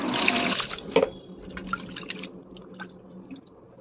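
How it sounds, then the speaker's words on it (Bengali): Pieces of hilsa fish being washed by hand in water: close splashing and sloshing at first, then scattered drips, small splashes and wet handling sounds, with no talk. "তো ইলিশ মাছগুলোকে আমি একটু ভালো করে ধুয়ে নেব।"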